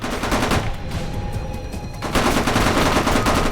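Rapid automatic gunfire in the Vietnam-era shooter game Tunnel Rats: 1968, a loud continuous burst that briefly thins, then resumes with full force through the end.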